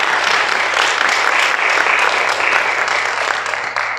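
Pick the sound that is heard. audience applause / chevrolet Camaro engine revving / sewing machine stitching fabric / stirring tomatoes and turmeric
audience applause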